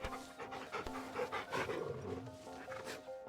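A dog in the video game Final Fantasy XVI pants while being petted: soft, quick, rhythmic breaths repeating over faint tonal background sound, quiet throughout.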